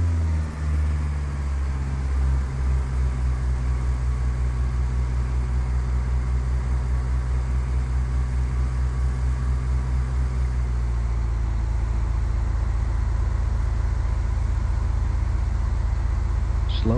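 Light aircraft engine throttled back to about 1500 RPM in a Microsoft Flight Simulator X training flight, a continuous low droning hum that holds steady throughout, loud and alone with no talking.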